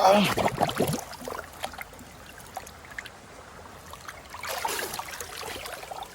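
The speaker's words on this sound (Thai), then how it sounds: "เก็บเสร็จแล้วเราก็มาที่ต้นลำธารครับ มาหาน้ำเย็นๆชื่นใจ" A cold mountain stream at its source runs in a steady, close wash of flowing water, with louder splashy surges at the start and again near the end, and no clear talk.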